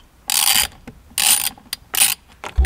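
A ratchet wrench loosens the steering wheel bolts on a 1992 Lexus SC400. Three quick, close clicking bursts are separated by short pauses, and a soft thump follows at the end.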